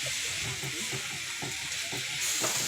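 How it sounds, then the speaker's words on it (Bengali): Grated coconut and sugar sizzle in a hot wok with a steady hiss while a spatula stirs and scrapes through it in short strokes. "নারকেলটা কড়াইয়ে দিয়ে দিলাম"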